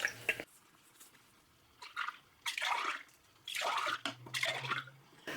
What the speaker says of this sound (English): I'm just going to swish some water between the 2 cans to make sure we get all